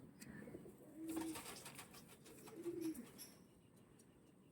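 Flying pigeons coo softly at close range: two low, rolling coos sound about a second and a half apart over quiet, faint background noise.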